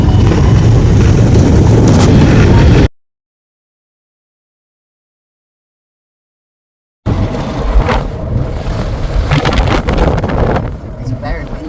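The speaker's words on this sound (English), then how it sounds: "It's very windy." Strong wind batters the microphone in gusty, roaring bursts around the edge of a hurricane, broken by a silent gap partway through.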